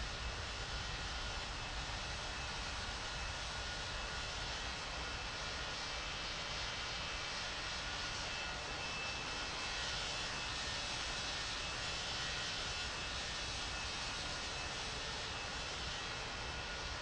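Airplane taking off in the video game World of Airports, a steady, faint jet engine roar that holds evenly throughout without breaks or talk.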